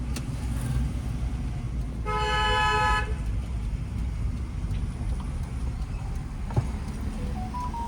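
A single car horn blares loudly for about a second over the steady rumble of traffic and road noise on a narrow lane.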